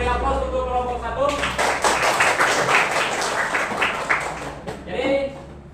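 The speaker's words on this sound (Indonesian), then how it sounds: "beri aplaus untuk kelompok 1" Group applause breaks out in a classroom session after the first team's presentation, a dense burst of clapping lasting several seconds over brief talk before and after.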